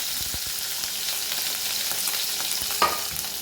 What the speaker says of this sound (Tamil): இதை ரெண்டையும் நல்லா பொரிச்சு எடுக்கணும் அந்த எண்ணெயில்